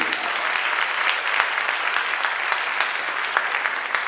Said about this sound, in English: How about another round of applause for this wonderful group?